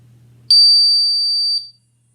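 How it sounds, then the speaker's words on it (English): A Ventis MX4 portable gas detector switched on, giving a single loud, piercing electronic tone that holds steady for about a second before cutting off, close and alone over a faint low hum. "you press and hold the on-off button, and it's going to beep at you."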